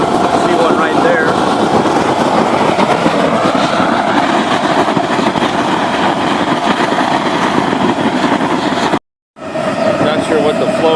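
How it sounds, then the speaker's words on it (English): A homemade waste oil stump burner roars with a loud, steady, rushing flame that runs unbroken before a brief cutout, with a voice talking over it. "It's an oxygen-rich, super hot flame."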